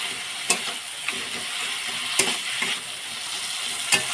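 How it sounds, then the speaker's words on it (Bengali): A fish head frying with spices in a pan, a steady close sizzle broken by a few sharp scrapes and taps of a spatula stirring, with no voices. "মশলার সাথে মাছের মাথাটা ভালো করে কষিয়ে নিতে হবে"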